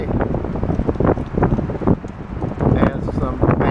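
Steady wind gusting and buffeting the microphone, with rushing noise rising and falling throughout.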